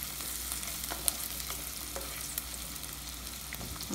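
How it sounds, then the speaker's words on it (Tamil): Fish curry ingredients fry in a pan, giving a steady, close sizzle with a few faint clicks of stirring; no one speaks. "இது வந்து ரொம்ப அப்படி பயங்கரமாக ஃப்ரை ஆகி முறிஞ்சி வரணும்லாம் இல்லை, ரொம்ப ஃப்ரை ஆக வேண்டாம்"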